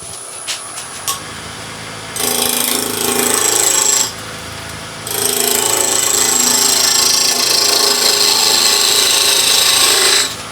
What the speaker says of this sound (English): So I'm going to continue cutting now and working each side and working my way down so that we can make this sphere in the centre